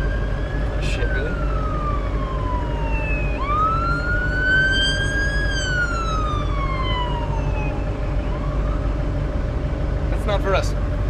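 An ambulance siren wails loud and close, its pitch sweeping slowly up and down over a steady low engine hum, with a few short sharper chirps near the end.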